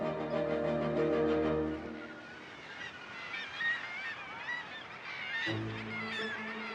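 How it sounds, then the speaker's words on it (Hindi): A noisy seabird colony on a remote coast calls in a dense, overlapping clamor, opening with loud honking cries before dissolving into a chaotic chatter of many birds, then a fresh burst of honks near the end. "पूरी दुनिया में ही दूर दराज तटीय इलाकों में शोर मचाते समुद्री पक्षियों की बड़ी बड़ी कॉलोनीज होती हैं"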